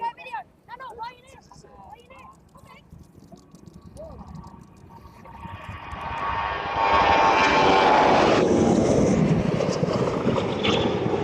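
A Ryanair airliner at East Midlands Airport swells into a loud, roaring jet engine rush that builds and holds near the end, following a quieter stretch where a person talks over faint airport background noise.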